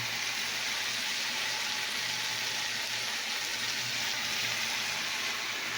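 Cumin seeds sizzle and crackle in hot oil in a home kitchen pan, a steady close hiss of frying that holds evenly throughout with no talking.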